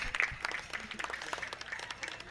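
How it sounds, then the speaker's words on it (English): A crowd applauds at an evening pow wow, with steady clapping from many hands at moderate distance that carries through the whole stretch without letting up. "Let's give a round of applause"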